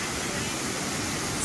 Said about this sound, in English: Here's the falls.